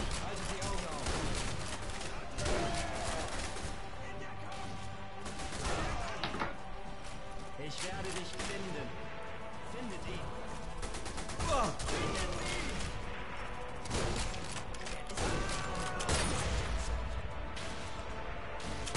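Gunfire in the co-op sniper game Sniper Hell, bursts and single shots mixed with thuds and crashes at moderate loudness, with players talking over much of it.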